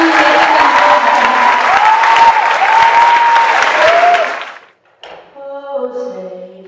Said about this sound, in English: could you have a huge round of applause, young ladies and gentlemen